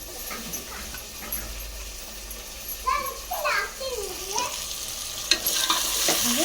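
Tomatoes sauté in a pan with a steady sizzle and occasional stirring, while voices, including a child's, and other household sounds carry on in the background.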